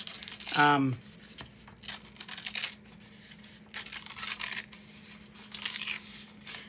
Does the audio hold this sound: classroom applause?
no